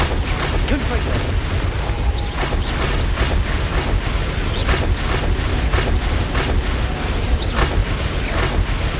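Repeated Confringo spell blasts in the video game Hogwarts Legacy, a steady barrage of booming explosions that runs loud and continuous throughout, with speech mixed in.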